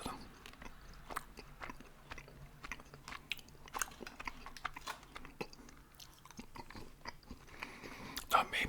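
Close, crunchy chewing of a crunchy candy bar with a steady run of crisp bites and crackles, loud near the mouth, with faint clicks and rustles between chews.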